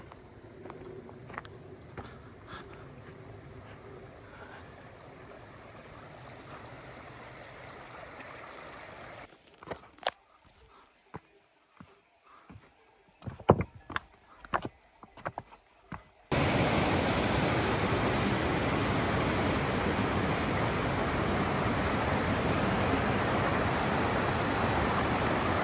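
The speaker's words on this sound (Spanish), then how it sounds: "y el río lo tenemos ahí abajo." A mountain river flows below a refuge near Ibón de Piedrafita in the Aragonese Pyrenees, a steady rushing wash that briefly drops away amid scattered clicks before returning as a loud, close, constant roar.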